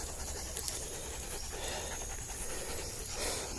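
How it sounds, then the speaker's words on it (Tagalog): A hunting dog pants rapidly right after catching a wild chicken outdoors, a close, steady breathy rhythm with faint bird cooing in the background. "Nahabol ng aso"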